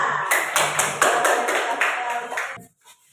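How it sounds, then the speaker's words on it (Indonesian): A class of students claps for group 3 after their presentation, a dense burst of hand clapping with a few stronger surges, all stopping together near the end and leaving brief quiet. "kita berikan tepuk tangan untuk kelompok 3"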